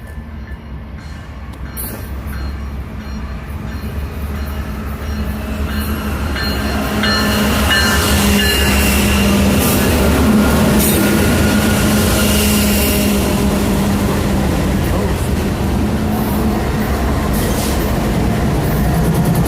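A massive manifest freight train led by six diesel locomotives, including SD70ACE units, rumbles past nearby, its steady loud roar and rolling wheel noise building over the first seconds and then holding at full strength.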